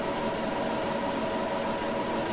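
An F1 2020 race car in the video game holds a steady high-revving engine note on the grid at the Hungaroring, a constant droning buzz without breaks.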